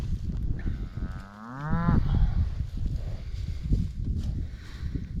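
A cow gives one long descending moo as cattle are moved across a pasture, the call rising clear over a steady low rumble of hooves, shuffling and outdoor noise.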